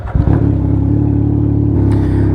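Aftermarket exhaust on a Can-Am Ryker three-wheeled motorcycle, a loud deep steady rumble with a throaty low drone held evenly throughout, heard up close on a hot sunny day.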